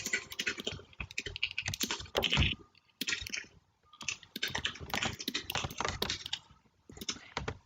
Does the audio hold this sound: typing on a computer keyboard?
yes